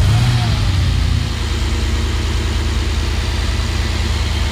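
A Mercedes G-Class 500 V8 turns over and settles into a steady, deep idle, close and loud, with a brief louder burst at the start before the even rumble continues.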